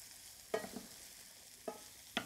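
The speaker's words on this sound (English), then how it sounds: "I'm going to add in my onions, and I'm just going to sweat these onions." Onions sweating over medium-low heat in a risotto pan make a faint, soft sizzle, broken by three sharp scrapes from a spoon stirring them.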